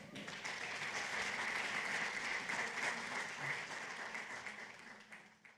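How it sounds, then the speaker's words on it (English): Audience applause at an art and communication panel symposium, steady dense clapping filling the room for several seconds before tapering off near the end. "Please give them a round of applause."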